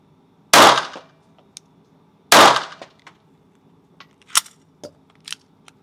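Two loud, sharp pistol shots from a 7.65 mm Mauser HSc fired into drywall, about two seconds apart, each followed by a brief decay and a scatter of small clicks and knocks.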